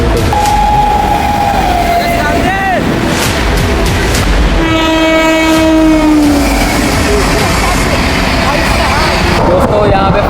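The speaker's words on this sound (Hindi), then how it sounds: "अगस्त क्रांति तेजस राजधानी भाई मेरे पीछे आपको दिख रही होगी भाई अपनी जर्नी का पहला ओवरटेक है।" The August Kranti Tejas Rajdhani express overtakes with a loud, continuous rumble and clatter of wagons, punctuated by long horn blasts, all close and noisy throughout.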